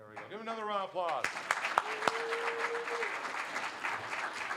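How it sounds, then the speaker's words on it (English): An audience at a regional idea pitch competition claps for a college prize winner, a burst of applause rising after a voice and continuing steadily with scattered sharp claps. "Give him another round of applause."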